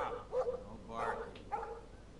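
Pompadour, a dog in Life is Strange, gives a few short barks and yips close by, with voices talking over them.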